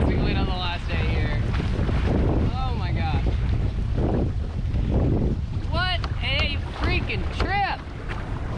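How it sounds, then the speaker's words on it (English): Strong wind roars across the microphone while sailing a Hobie kayak on open water, a constant heavy rumble with water wash beneath, and a voice talks and exclaims over it. "We have fantastic wind on the last day here."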